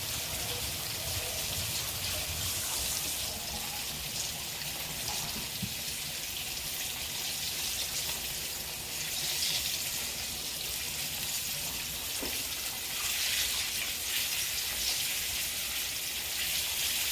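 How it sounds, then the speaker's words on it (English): A kitchen tap runs steadily while hands are washed under it after handling greasy pot roast, a continuous broadband rush of water with small splashes throughout. "Wash my hands."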